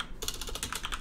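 Rapid typing on a computer keyboard sitting just beneath a microphone, with a quiet start and then a steady run of close, crisp key clicks that continues without a break.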